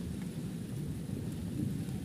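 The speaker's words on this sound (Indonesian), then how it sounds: "soalnya hujan." Rain falls steadily beside a railway track in wet weather, a dense, even rushing hiss with a low rumble underneath and no voices.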